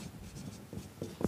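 Chalk writes on a board during a linear programming lecture, making a few faint, close scratchy strokes and taps in a quiet room.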